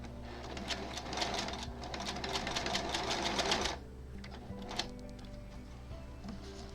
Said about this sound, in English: go back to the sewing machine